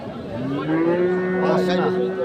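Cattle at a rural livestock market in Ambari, Bangladesh, give one long, sustained moo that starts about half a second in and carries to the end. The call is fairly close and loud over a steady crowd murmur.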